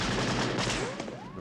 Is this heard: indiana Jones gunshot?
yes